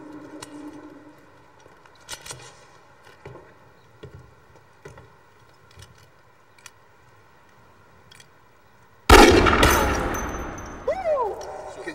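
A single sharp, loud .45 pistol shot cracks near the end and rings out with a decaying echo. Light clicks and handling noises come before it.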